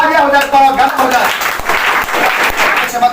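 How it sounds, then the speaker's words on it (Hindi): Audience applause at a quiz event in a coaching centre, a dense wash of clapping that stays loud and steady throughout, with music and voices mixed in underneath. "तालियां हो जाए"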